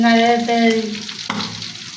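Fish frying in hot oil in a home kitchen, a steady sizzle overlaid with a loud tonal hum and a sharp clank of a utensil partway through.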